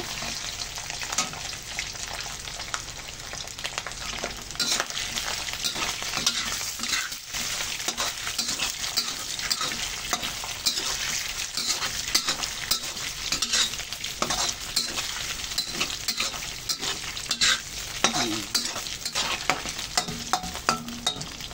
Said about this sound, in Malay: kita nak goreng dulu daging ni ya